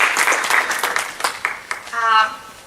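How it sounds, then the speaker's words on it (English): Audience applause at a Phi Sigma Phi initiation ceremony, a few seconds of scattered clapping with individual claps standing out, mixed with voices and ending in a brief spoken moment. "Applause, thank you."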